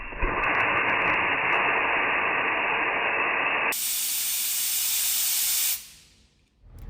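Compressed air hisses steadily through a milling machine spindle drawbar bolt fed from an air line, a loud continuous blast that shifts tone midway and then cuts off abruptly.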